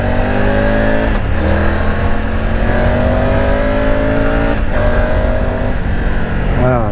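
A Euro 5 Triumph Tiger 900 GT Pro adventure motorcycle engine revs and accelerates steadily for several seconds, loud and close. Its pitch climbs in repeated gear-change sweeps.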